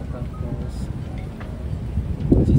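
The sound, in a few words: strong wind outdoors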